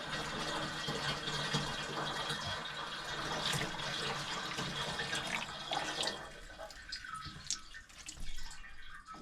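Liquid pours steadily into a rusty metal fuel tank as vinegar is filled for rust treatment, a continuous splashing trickle with drips, fairly close and alone, quieting toward the end.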